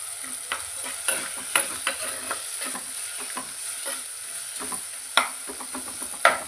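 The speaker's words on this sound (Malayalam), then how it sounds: "ഇത് നമുക്ക് ഇളക്കി നല്ലോണം ഒന്ന് മൂപ്പിച്ചെടുക്കാം" Spatula scraping and stirring garlic in a pan over a steady frying sizzle, with irregular clinks and scrapes, close by and no talking.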